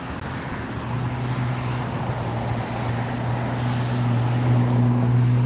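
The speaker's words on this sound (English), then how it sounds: "We got United taxiing." A United airliner taxiing at LAX airport heard from a distance: a steady low engine rumble with a sustained hum, slowly swelling over a few seconds, no voices.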